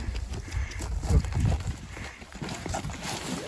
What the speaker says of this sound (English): Now, that big one's a goat? Yeah, they're all goats.